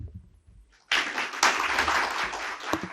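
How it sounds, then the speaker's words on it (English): A crowd applauding a speaker at a sustainable water management conclave, clapping bursting in abruptly after a brief quiet moment and continuing steadily at moderate distance. "I request everyone to please give him a big round of applause"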